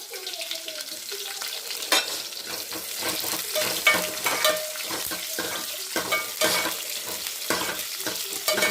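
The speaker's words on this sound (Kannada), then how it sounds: "ನಂತರ ಈರುಳ್ಳಿ ಹಾಕಿ ಸ್ವಲ್ಪ ಗೋಲ್ಡನ್ ಬ್ರೌನ್ ಬರೋ ತನಕ ಫ್ರೈ ಮಾಡ್ಕೊಳ್ಳಿ." Onions frying in a pan toward golden brown for avarekalu sambar: a continuous crackling sizzle, close up, with frequent scraping stir strokes and small clinks throughout, no speech.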